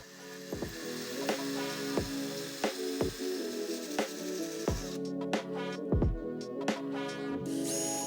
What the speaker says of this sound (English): I pre-drill and then I countersink.